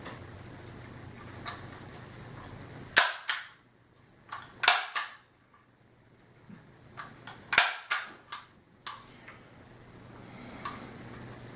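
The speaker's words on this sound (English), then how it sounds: "I'm going to take a stapler, I'm going to staple along here to give it a little bit more strength." A handheld stapler drives staples through screen mesh being fashioned into an unbreakable globe for a Coleman gas lantern, giving several sharp, close clicks spaced a second or two apart with quiet handling noise between.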